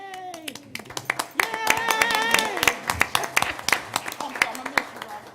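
Scattered, uneven hand claps from a county commission meeting audience, sharp individual slaps rather than a full ovation, mixed with a voice speaking and cheering over them throughout.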